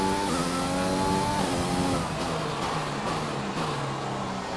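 A Formula 1 race car in the F1 2020 video game accelerates hard, its engine note rising through the gears with repeated upshifts. The engine is loud, close and continuous, with no talking over it.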